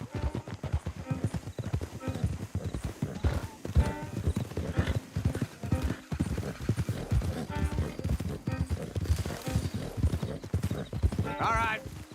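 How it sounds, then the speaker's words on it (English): Horse hooves clop steadily on the ground in Red Dead Redemption 2, a close, continuous rhythmic beat from several horses, with an occasional whinny and people talking throughout. "Don't want the horses clopping around outside the window."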